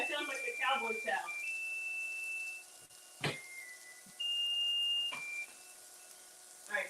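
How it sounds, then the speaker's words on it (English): Oven timer in a home kitchen where kielbasa and beans and cornbread are cooking, giving long steady electronic beeps in several bursts, with voices talking over the start and knocks and clatter between tones. "we'll turn off the timer"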